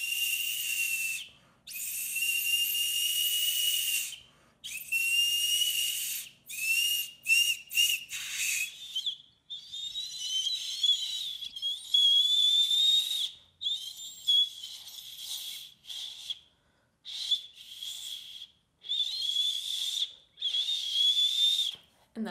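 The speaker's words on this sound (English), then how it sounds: "And that's how you whistle with an acorn cap." Shrill, piercing whistles blown through an acorn cap come in repeated short and long bursts, some wavering in pitch, with brief gaps between them.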